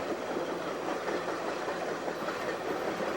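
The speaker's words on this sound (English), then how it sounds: "the train heads toward Port Henry" A passenger train rolls along the western shore of Lake Champlain toward Port Henry, giving a steady, even rumble of wheels on track with no voices.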